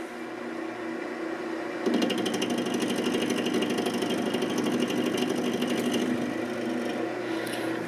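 An old lathe cutting metal with cutting fluid applied, a steady machine drone that turns into a louder, buzzing chatter as the cut begins and continues without talk.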